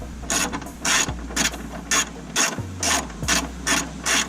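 Ratchet wrench clicking during a K-Tuned upper and lower control arm install on a Honda CRX suspension: about eight short bursts of rapid pawl clicks with brief pauses between, close and clear, with no talking.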